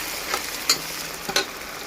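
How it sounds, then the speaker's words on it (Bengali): Spices with turmeric frying for duck curry, stirred in the pan: a continuous hissing sizzle broken by two quick scraping strokes, close and even. "এবার ভালো করে নেড়ে দেবো।"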